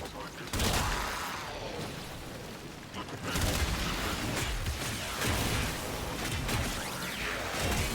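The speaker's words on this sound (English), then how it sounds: "Did they hear the explosion?" An explosion in a video game sets off a loud, continuous roar of blasts and rumbling debris that swells again midway and stays dense to the end.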